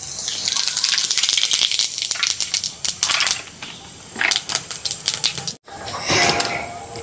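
Dried red chillies, whole cumin and bay leaves hit hot oil in a pan, setting off a crackling, spattering sizzle with sharp pops that rises, dips briefly and flares again.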